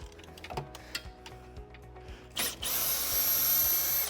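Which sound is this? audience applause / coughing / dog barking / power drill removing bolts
power drill removing bolts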